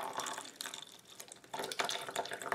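Water from inside a squishy pudding or flan stress toy poured into a small cup, giving a close series of uneven splashes and drips that swell near the end.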